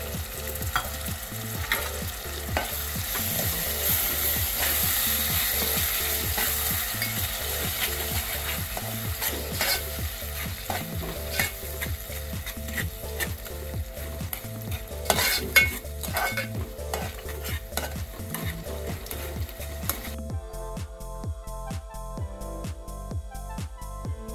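Curd being stirred into a cauliflower and potato curry in a pan, a steady rhythmic scraping of the spoon over a soft sizzle, close and continuous, with a few sharper knocks near the end.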